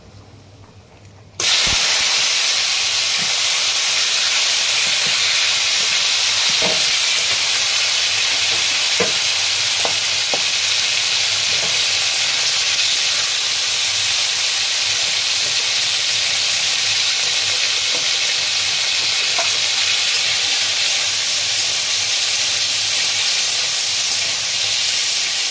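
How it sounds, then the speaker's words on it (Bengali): Chicken mince hits hot oil dusted with turmeric in a kadai, bursting into a loud, steady sizzle after a brief quiet start, with occasional spatters and stirring clicks throughout. "প্রথমেই মাংসটা আমি ফ্রাই করে নেব।"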